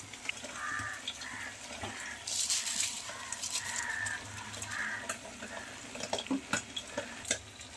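Rice stirred into a pot with boiled potatoes for a homestyle fish-head muri ghonto, giving soft scraping and shuffling at close range over a low kitchen hum, with a louder burst midway and a few sharp clicks near the end.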